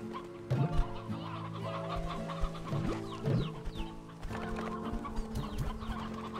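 Chickens cluck in the Slime Rancher 2 video game, a run of repeated clucks with short rising calls, moderately close and steady over a continuous ambient background, with no talking.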